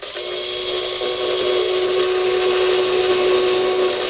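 A Slot.it GT40 slot car motor running at full power on 12 volts while truing rubber tyres, a loud, steady high-pitched whine held close and unbroken throughout.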